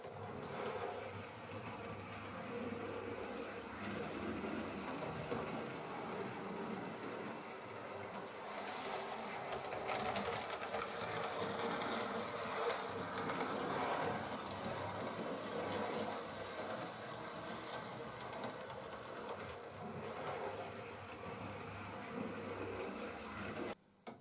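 Bachmann LNWR Improved Precedent class model locomotive running on a small-radius test curve, giving a steady, faint whirring mechanical buzz that continues evenly throughout with no talking.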